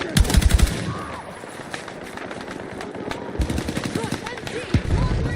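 Machine gun fire in the video game Battlefield 6 crackles in rapid, loud bursts at the start and again near the end, with scattered distant shots and battlefield noise in between.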